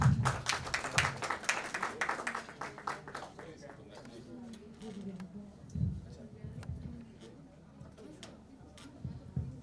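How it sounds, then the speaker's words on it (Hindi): An awards ceremony audience claps briefly, starting as brisk, close applause that quickly thins to scattered claps while a voice talks over it. "Can we all please clap for Cinta?"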